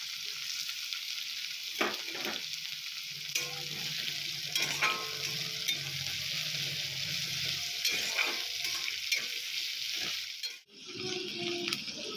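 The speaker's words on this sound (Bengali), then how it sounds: "আর তার সাথে কাঁচা লঙ্কাগুলো দিয়ে দিচ্ছি।" Onions and green chillies fry in a kadai with a continuous loud sizzle, with occasional stirring scrapes and clinks over the steady hiss.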